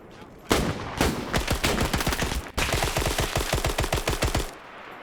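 Rapid automatic gunfire from a video game, two close, loud bursts of evenly spaced shots separated by a brief pause, with no talking.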